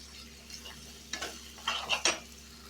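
Ginger-green chili paste fries in a pan, a faint sizzle under a few quick scrapes and clinks of stirring utensil against metal.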